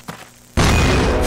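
A grenade goes off in a shooter video game, a sudden loud burst of crashing noise that hits after a brief quiet lead-in and stays dense to the end.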